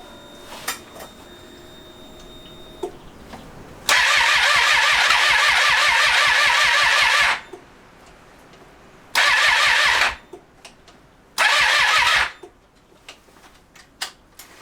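A Triumph Street Triple motorcycle engine with a suspected MAP sensor or crankshaft position sensor fault cranks three times without catching: a long whirring starter burst, then two shorter tries, loud and close with quiet pauses between.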